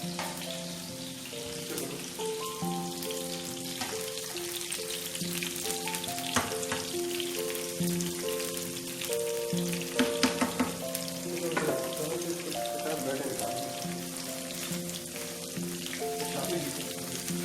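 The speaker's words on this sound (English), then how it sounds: "why fry the onion and the capsicum?" Onion and capsicum sizzle and fry in a pan for a kebab sandwich, a steady crackling hiss with occasional sharper pops and stirring scrapes throughout.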